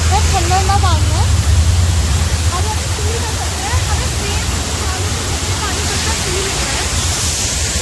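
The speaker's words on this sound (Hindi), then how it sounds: "बक्सांग वाटरफॉल करके है कोई एक वाटरफॉल रास्ते में, और अभी पानी बहुत अच्छा आ रहा है यहाँ पे" Baksang waterfall near Gangtok, running with plenty of water, produces a loud, steady roar throughout, with voices chattering faintly over it.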